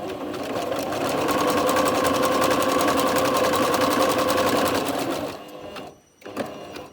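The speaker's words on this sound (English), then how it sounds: "Right, so zigzag, stitch, and I'm going to go on the bottom." A sewing machine runs a zigzag stitch along the bottom of a rotary cutter bag, a fast rhythmic mechanical chatter held steady for about five seconds, then stopping with a few soft handling clicks.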